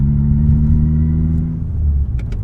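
A Fiat Cinquecento 1.1 Sporting drives slowly through a small city at about 40 km/h, its small engine giving a loud, steady low rumble from inside the cabin, with a couple of faint clicks near the end.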